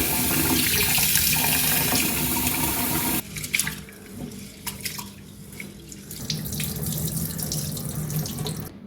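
Tap water gushes steadily over basmati rice being rinsed in a pot for paneer biryani, a continuous close splashing flow that softens and turns more trickly partway through, with no talk.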